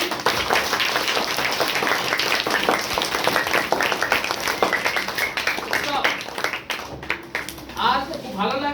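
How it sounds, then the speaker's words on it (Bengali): A brief round of clapping from an audience at a school development programme, honouring guests; scattered hand claps that thin out over several seconds, with a voice talking over the later part. "একটা ছোট্ট হাততালি ওনাদের জন্য"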